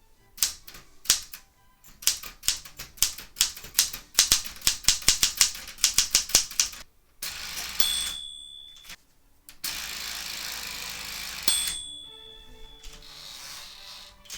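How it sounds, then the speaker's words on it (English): Rapid keystrokes clatter on a Smith Corona Galaxy 12 typewriter, bursts of sharp close clicks followed by a carriage-return bell and a ratcheting line advance, then another bell ring, with no voices. "here's a little bit of the type test I did on the Smith Corona Galaxy 12"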